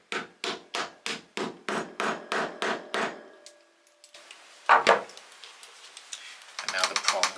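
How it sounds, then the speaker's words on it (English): Ten steady, evenly spaced hammer taps on metal ring out one after another as the prongs of a magnetic jewelry clasp are flattened, followed by a pause, a single louder knock, and faint rustling. "we can hammer that through to fix them in place"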